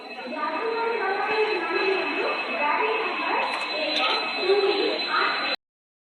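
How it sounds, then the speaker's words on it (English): The Puri Howrah Shatabdi Express pulls into a station on a foggy morning, a steady close rumble with metallic screeching tones running through the whole stretch before cutting off abruptly. "Here came our train."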